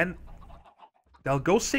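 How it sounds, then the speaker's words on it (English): Blocky Minecraft chickens in a modded breeding station give a few short, bright clucks near the end, after a quiet stretch with faint low background sound. "So I set up this little chicken breeding station."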